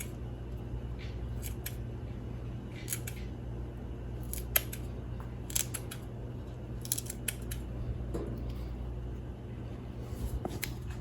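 Peppers being cut for collard green soup: a series of short, crisp snipping clicks in irregular clusters, close and fairly quiet over a low steady hum, no talking.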